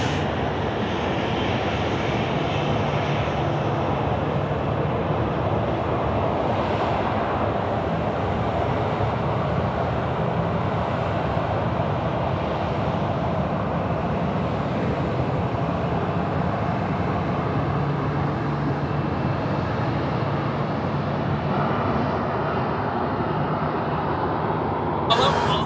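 A Qantas jet airliner roars steadily at Sydney Airport at night, a loud and continuous broadband rumble of engines that holds for the whole stretch with no letup.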